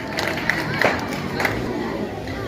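A crowd at a school convocation ceremony gives a clamorous welcome, with mixed cheering and scattered clapping, moderately loud, and voices shouting throughout.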